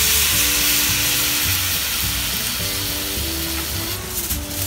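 Hiougi scallops dusted in potato starch sizzle in a pan with white wine added, a steady, dense frying hiss throughout with a low hum beneath, loud and close, no talk.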